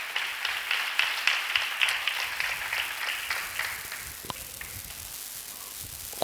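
A church congregation claps in praise, a sustained wash of many hands applauding at moderate distance that gradually thins and fades out.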